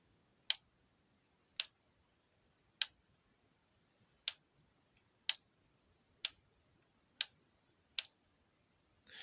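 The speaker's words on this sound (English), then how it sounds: "as I click the button, the relay works" A relay module switched from a Flysky FS-i6 transmitter gives eight sharp, isolated clicks about a second apart, close and crisp over a quiet background.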